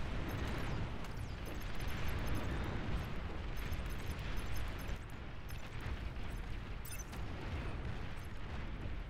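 Loud, dense rumbling blasts and crackling booms fill the whole stretch as an enemy commander unit explodes in the Beyond All Reason real-time strategy game, a continuous barrage of explosions with sharp bursts on top and no talking.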